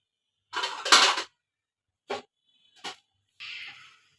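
A lid goes onto a cooking pot of beef tripe on the stove: a cluster of metallic clatters, then two short separate clinks and a brief hiss, fairly close, with no talking.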